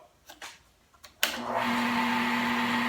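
A Rockler mini lathe starts up after a few light handling clicks and runs at 1600 RPM, a steady whirring motor hum with a faint high whine, close and fairly quiet.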